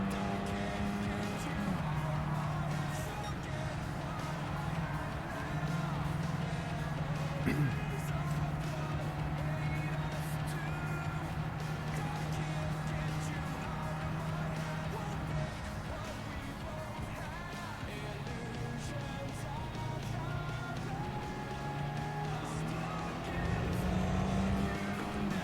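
Race car engines in Gran Turismo 7 drone steadily throughout, holding a sustained pitch with shifts near the middle and end as the cars pass slower traffic, running loud and continuous without pause.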